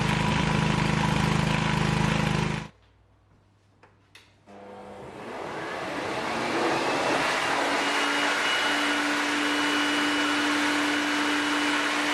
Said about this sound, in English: Using the leaf blower I managed to dry the tank pretty quickly